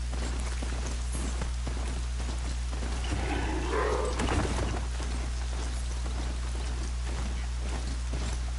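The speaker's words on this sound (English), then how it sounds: "Not used to rain so much in this game." Steady rainfall in Horizon Zero Dawn, a continuous even patter on surfaces with no talk, moderate in level and unchanging throughout.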